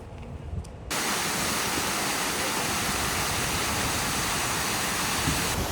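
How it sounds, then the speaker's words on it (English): Waterfall in the Dolomites near Colfosco, a steady dense roar of falling water that bursts in after a quiet second and then holds loud and unbroken to the end. "Made it to the waterfall."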